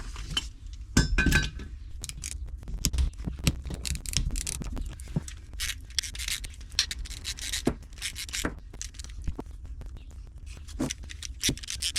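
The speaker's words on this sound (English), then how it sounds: "Scrub off some of that loose rust first." Loose rust being scrubbed off a Yamaha VX110 starter motor during restoration, a busy run of close scratchy rubbing strokes mixed with small metallic clinks and taps throughout.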